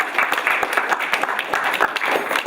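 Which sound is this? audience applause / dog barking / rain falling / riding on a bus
audience applause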